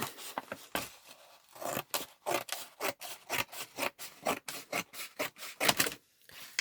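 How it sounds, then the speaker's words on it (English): Cutting the metal bit off a junk journal item makes a quick series of rhythmic rasping, scraping strokes that are close but quiet, some blending together, then a short pause near the end. "I'm just going to cut the metal bit off it."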